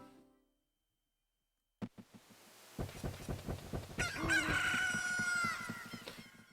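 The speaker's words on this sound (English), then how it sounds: "Kojiro made a blue chicken sound" Blue chicken noises from a video game, a burst of rapid clucking that rises into loud honking, crowing squawks, close and busy, following a short silence and a sharp click.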